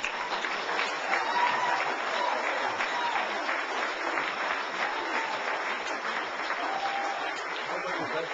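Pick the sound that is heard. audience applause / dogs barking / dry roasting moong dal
audience applause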